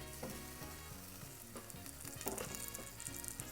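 Steady, loud sizzling of chicken wings frying in a pan, with crackling pops throughout and no talking.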